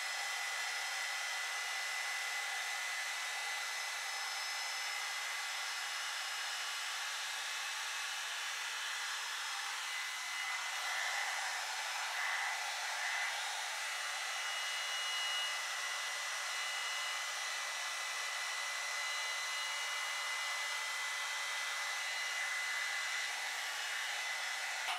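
A hair dryer runs on its lowest speed setting, blowing as a steady, even whoosh that goes on unbroken throughout, loud and close with no talking over it.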